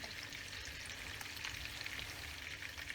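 Spices such as red pepper, cumin and curry sizzling in melted butter in a pan for tantuni, a steady, dense crackling fry heard close up with no talk.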